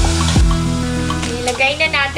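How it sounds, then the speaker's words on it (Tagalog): Onions and garlic sautéing in a home kitchen pan, a close, continuous sizzle with scraping stirs and a few clinks, while someone talks over the cooking. "Sautein na natin ang onions."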